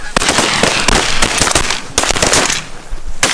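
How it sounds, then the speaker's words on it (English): Shotgun fire at geese during an early-season goose hunt in an open field, a rapid volley of loud, close blasts in quick succession over about three seconds, with brief gaps between bursts. "Shoot them!"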